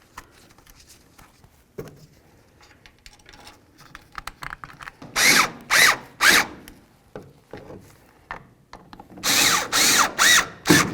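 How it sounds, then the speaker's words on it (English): Power tool driving tail light screws on a 1992-99 GMC K1500 pickup, several short loud whirring bursts in two clusters after quiet handling noises. "Start in both these screws and then we'll tighten them down."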